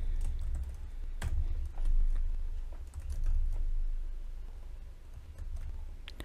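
Steady typing on a computer keyboard while entering code, close-up keystrokes in an irregular rhythm with occasional louder taps, alone without talking.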